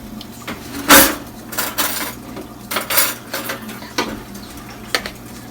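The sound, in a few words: pricking potatoes with a fork in a bowl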